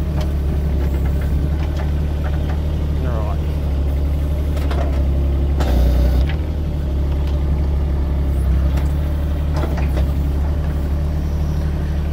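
An excavator's diesel engine runs loud and steady throughout while the machine moves logs, with a constant low drone, occasional clanks and brief surges.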